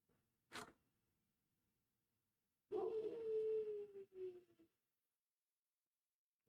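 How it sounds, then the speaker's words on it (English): After a brief clack, a dog lets out a single drawn-out howl, then a shorter yelp, fairly quiet and somewhat distant. "I don't know if you can hear the pup next door"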